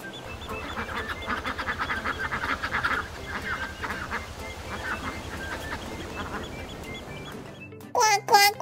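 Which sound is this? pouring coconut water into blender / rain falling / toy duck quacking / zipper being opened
toy duck quacking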